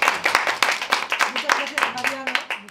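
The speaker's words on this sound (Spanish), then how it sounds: "le damos un aplauso" An audience gives a round of applause at an event honoring Mariano Gomá Otero, with distinct claps in a quick, uneven rhythm and a voice speaking over them.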